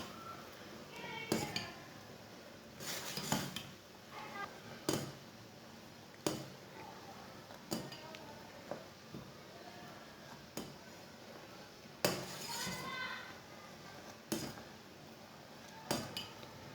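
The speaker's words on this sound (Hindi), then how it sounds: "इसे ऐसे ही फेंटते हुए 5 मिनट तक पकाना।" Metal spoon clinking against a pot while milk tea is whisked and cooked on the stove, irregular sharp taps and scrapes recurring every second or two at moderate level over a quiet kitchen background.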